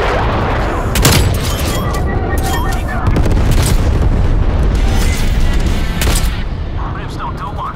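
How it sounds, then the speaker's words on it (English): A napalm strike in Call of Duty Black Ops Cold War erupts as loud, rolling booms and blasts with dense crackling roar throughout, continuous heavy bursts near and far. "Authorizing napalm strike."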